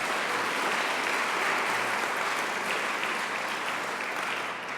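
A synagogue congregation applauding at a temple service, a dense, even roar of many hands clapping throughout, fairly loud and close, with no voices over it.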